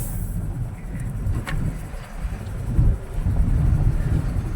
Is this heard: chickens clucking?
no